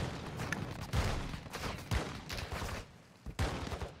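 Rapid gunfire in a multiplayer shooter game, several loud close bursts of shots with heavy thumps about a second apart, alone without talk.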